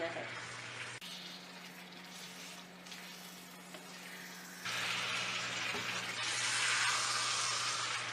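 Mutton sautéing in a pan as it is browned, a continuous sizzle and hiss that grows louder and brighter partway through, running under a steady low hum.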